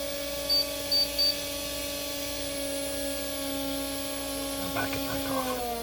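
A small electric motor driven by a PWM motor control kit gives a steady tonal whine and hum. Three brief beeps sound early, and a soft clatter comes near the end.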